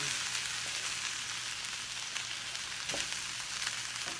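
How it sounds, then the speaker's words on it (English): Chicken pieces sizzle as they brown in a frying pan for Greek lemon chicken soup, a soft, steady crackling fry with a few brief louder pops and no talk. "The outsides are getting browned up."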